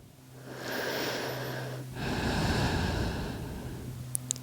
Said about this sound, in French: Et on essaie de penser respiration Ujjayi. On inspire par le nez, on expire par l'arrière de la gorge.